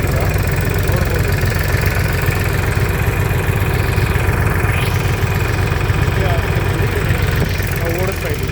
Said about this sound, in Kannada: ಪಕ್ಕದಲ್ಲಿ ಒಂದು ಪಂಪ್ ಸೆಟ್ ಸ್ಟಾರ್ಟ್ ಇರೋದ್ರಿಂದ ಅದರ ಸೌಂಡ್ ಜಾಸ್ತಿ ಬರ್ತಾ ಇದೆ ಇಲ್ಲಿ